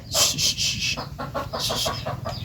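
Several chickens cluck in quick, uneven bursts close by, loud and alone with no talk over them.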